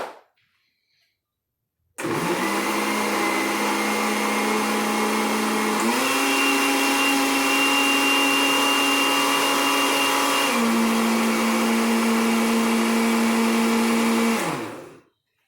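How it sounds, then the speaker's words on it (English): A blender runs loud and steady for about twelve seconds, whirring an ice cream drink, its pitch shifting twice as the load changes before it stops; no one talks. "close the blender"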